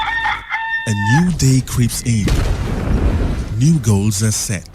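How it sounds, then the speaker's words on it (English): A rooster crows once at the start, a loud close cock-a-doodle-doo on a morning radio show, followed by a voice speaking over a booming sound effect. "Every morning as the cock crows, a new day creeps in."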